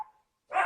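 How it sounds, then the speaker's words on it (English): A pet dog gives a single short, sharp bark indoors, close by and fairly loud, following a brief moment of quiet. "Hey, sorry, that's my dog. He's barking a lot."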